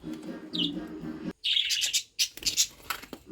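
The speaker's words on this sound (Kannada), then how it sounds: "ಗಿಳಿ ಸೌಂಡ್ ಆಗ್ತಿರ್ಬೇಕಲ್ವಾ? ಹೌದು, ನಮ್ಮ ಮನೇಲಿ ಗಿಳಿಗಳನ್ನೂ ಸಾಕಿದ್ದಾರೆ." Pet parrots call inside a home, a few short bright chirps and squawky bursts in quick irregular succession, moderately close.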